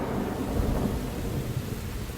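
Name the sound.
rain and thunder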